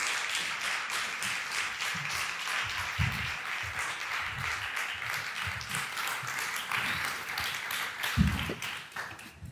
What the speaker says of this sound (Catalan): Un aplaudiment per ella, si us plau.